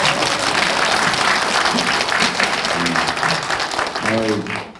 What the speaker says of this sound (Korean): 박수 한번 더 쳐주셔야 돼요.